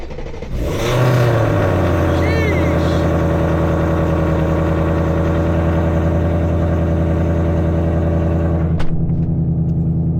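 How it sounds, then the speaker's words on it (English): A 2024+ Ford Mustang engine cold-starts with a quick cranking whir that catches into a loud, close rev, then settles into a steady, rumbling high idle that holds to the end. "let's go ahead and get a nice cold start"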